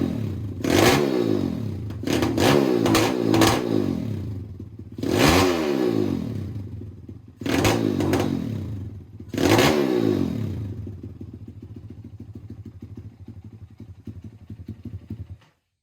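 Pitster Pro X4 pit bike engine being blipped in four or five sharp, loud revs with rattly idle between them, then settling into a rough, fading idle near the end.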